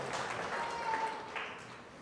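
A congregation at a church gathering gives a round of applause, a soft, fairly distant wash of clapping that swells and then gradually fades over about two seconds.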